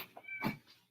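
A house cat meows from nearby, one short call followed by a louder drawn-out meow, alone with no talk over it.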